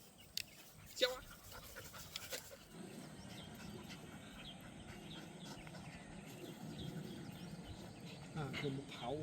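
A dog gives a few sharp barks close by early on during an evening walk in a Guangxi expo-park garden, then steady outdoor ambience with insect chirping and faint voices continues.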